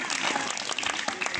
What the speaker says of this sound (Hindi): और भी जोर से तालियां